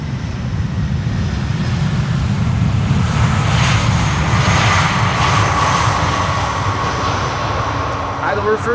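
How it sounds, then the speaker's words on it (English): An airliner landing on Schiphol's Polderbaan runway 18R rumbles past using idle reverse thrust, a steady, loud, broad engine roar that holds throughout with a faint whine building in the middle. "Idle reverse landing."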